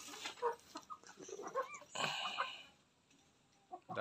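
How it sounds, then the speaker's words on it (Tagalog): Several short, soft clucks from chickens in irregular bursts over quiet background noise, with a brief louder flurry midway. "magagaling yung mga manok"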